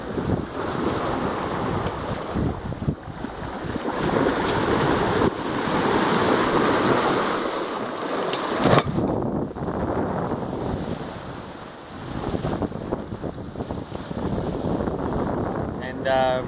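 Steady rushing wind and surging waves wash over the whole stretch, with broadband roar rising and falling as a Sparkman & Stephens 34 sailboat rolls, sailing downwind at about 7 knots.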